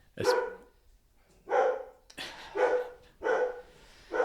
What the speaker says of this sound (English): We're going to see if we can quieten the dogs.